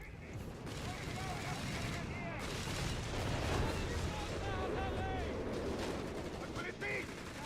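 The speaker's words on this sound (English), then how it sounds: "Cycle narrowly dodging artillery rounds." Artillery rounds boom and crackle in dense, continuous volleys during a 2v2 video game tournament match. A commentator talks steadily over the fire, which stays present without clear peaks.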